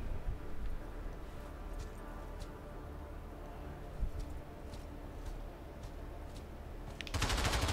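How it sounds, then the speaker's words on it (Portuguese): Distant gunfire in the VR shooter game Pavlov crackles in faint sporadic shots over a dense, steady roar of noise, ending in a sudden loud burst. "tô ouvindo tiro agora"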